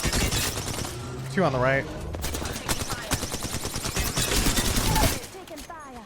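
Rapid bursts of automatic gunfire and single shots crack through an Apex Legends match, dense and loud, with a voice speaking briefly between the volleys.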